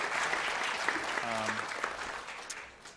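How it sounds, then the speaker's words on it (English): Audience applause at an awards event honoring challenge winners, steady clapping from a crowd that fills the whole stretch at even loudness, with a brief voice tone under it. "Let's give them another round of applause."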